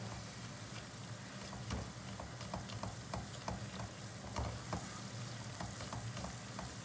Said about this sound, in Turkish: Şöyle yağın unun kokusu gitsin diye güzelce kavuralım.